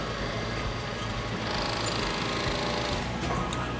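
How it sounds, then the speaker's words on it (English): A mattress tape edge sewing machine stitches around mattress corners in a factory, a steady loud mechanical whir and rapid needle clatter running the whole time, with no talk. "it gives the operator the capability of making those corner stitches and turns"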